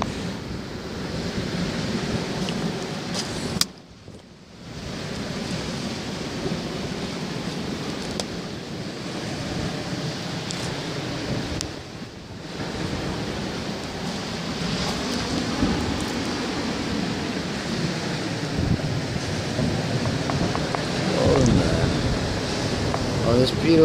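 Waves break and wash onto a plastic-strewn beach on Christmas Eve while wind buffets the microphone, a steady roar with a couple of brief drops, and occasional voices beneath.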